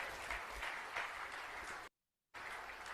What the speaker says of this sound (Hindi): एक बार जोरदार तालियों के साथ इनका स्वागत।